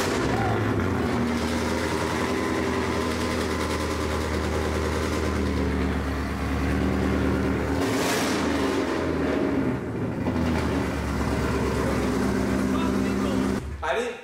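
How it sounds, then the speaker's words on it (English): A very loud car engine revving, producing a sustained deep roar that fills the whole stretch with heavy low rumble, swelling briefly near the middle and cutting off abruptly at the end. "That's for sure the loudest car I've ever heard."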